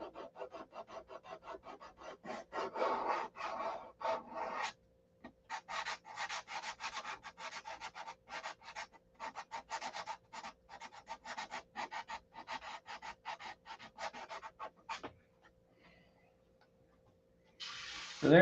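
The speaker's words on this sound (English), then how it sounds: "I tell you, sanding is ridiculous." Repeated hand sanding strokes on the primer of a SIG Magnum, a steady rasping scrape back and forth in quick rhythm, close up, with a brief pause midway and no talking.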